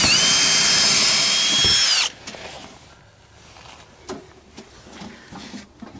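Power drill boring a 3/4 inch hole through a house wall, a loud steady whine for about two seconds that cuts off abruptly, followed by quieter knocks and rustling.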